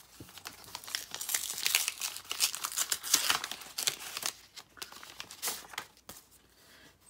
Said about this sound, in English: got to open a card here